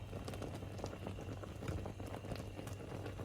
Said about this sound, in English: Once you see the bubbles like this, and I think the water is almost drained, so our fura is ready.